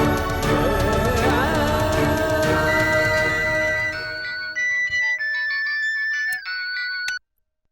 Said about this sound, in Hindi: गीसू का फोन है